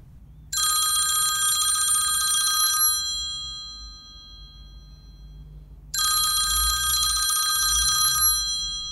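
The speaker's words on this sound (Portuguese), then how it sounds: "Minutos depois, o telefone toca" A telephone bell rings loudly in two long bursts separated by a pause of quiet, in a home living room, with no voices.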